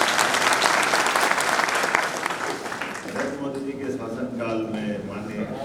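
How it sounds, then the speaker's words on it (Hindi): Loud, dense applause from a crowd at a Hindi political rally, steady for about three seconds, then thinning as a voice begins speaking over the fading clapping. "तो जोरदार ताली बजाओ मोदी जी के लिए।"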